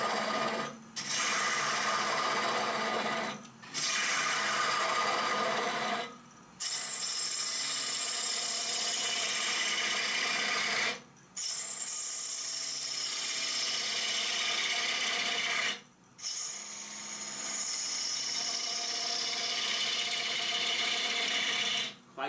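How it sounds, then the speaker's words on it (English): A small gouge cuts a long-stemmed wooden goblet turning on a lathe, giving a steady scraping whir in long passes broken by short pauses between cuts. "Quite decent cuts for a small gouge."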